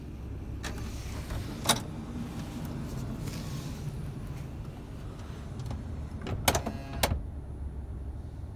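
Rear power sliding door of a 2016 Honda Odyssey closing, heard as a low motorized hum with a few sharp clunks and latch clicks near the end, fairly close over steady background noise.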